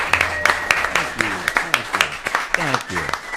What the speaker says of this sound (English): what's nice is both of you clap as well